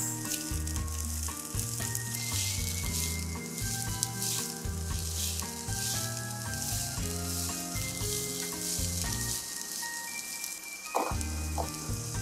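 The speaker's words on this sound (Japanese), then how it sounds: "熱くなったらピーマンを炒めます。 1分程度炒めます。" Green peppers and sliced red chili stir-fry in a hot pan with a continuous crackling sizzle, heard under steady background music.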